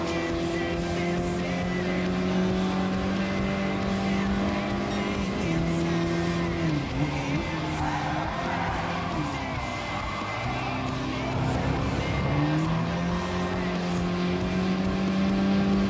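A car engine in a racing video game holds a loud, steady tone that dips and climbs through gear shifts and corners, with a brief scuffing burst near the end.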